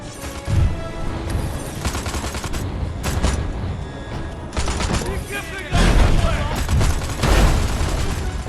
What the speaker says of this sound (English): Now hurry and get out of there before that machine explodes.